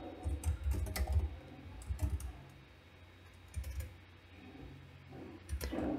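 Bursts of quiet computer keyboard typing, rapid clustered key clicks separated by short pauses, close but soft, with no talking.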